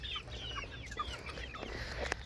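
Backyard garden hens cluck and murmur softly at close range in short, overlapping calls over a steady low background hiss.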